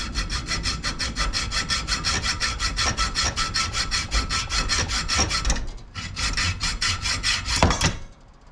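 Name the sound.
sawing a threaded rod to length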